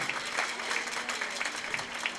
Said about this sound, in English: Give Mr. Scott Bignall a big round of applause for donating 3 pairs of shoes